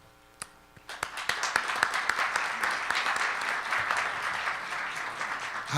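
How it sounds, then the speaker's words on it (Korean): Audience applause welcoming a professor to a special lecture at a Hanshin University theology graduate school, starting with a few scattered claps and swelling into sustained clapping from a modest crowd in a hall. "우리 신 교수님 나오실 때 큰 환영의 박수 부탁드리겠습니다."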